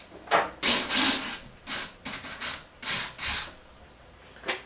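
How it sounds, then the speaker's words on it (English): A screw being backed out of a 4-inch AC Infinity Cloudline Lite A4 inline duct fan gives a series of close, loud rasping grinds in uneven bursts, with no talking. "So I am going to remove that screw."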